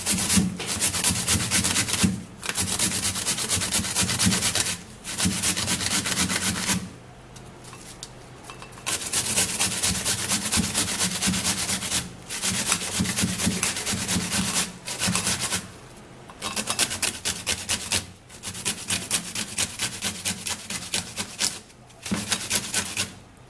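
A cucumber is rubbed against a grater in repeated scraping bursts, each a few seconds long and separated by short pauses, close and moderately loud.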